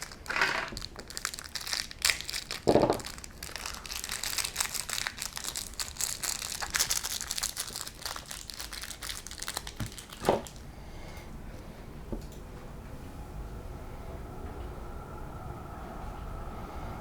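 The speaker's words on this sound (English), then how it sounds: "Open this bag up here." A plastic parts bag for a Tamiya Mudmad 1/24 radio-control truck kit being opened, with loud close crinkling and rustling and a few sharp crackles, then quieter handling.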